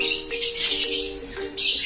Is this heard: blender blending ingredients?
no